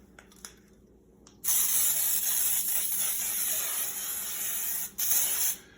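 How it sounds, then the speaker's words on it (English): A loud, steady aerosol hiss of Pam baking spray with flour coating a bundt pan, running for several seconds with a brief break near the end, after some light clicks. "I'm going to spray my bun pan down with some Pam baking spray with powder"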